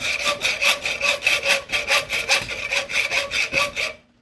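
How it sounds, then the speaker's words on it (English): A hacksaw cuts through a steel carriage bolt in about a dozen rhythmic back-and-forth strokes, each a bright, rasping scrape, close and alone before stopping. "For the people that don't believe I'm cutting carriage bolt with a hacksaw in the modern world."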